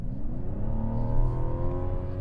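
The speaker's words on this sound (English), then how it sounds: "All right, I'm gonna put my foot down." A 2024 Mazda CX-90 Turbo S accelerating hard from inside the cabin, its engine note climbing steadily in pitch as revs rise, loud and continuous with no talking.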